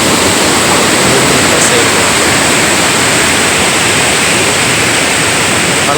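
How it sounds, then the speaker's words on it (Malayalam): Meenmutty waterfall near Kiliman thunders in a dense, unbroken roar of falling water, loud and close, holding steady without a pause. "ഇതാണ് മീൻമുട്ടി വെള്ളച്ചാട്ടം."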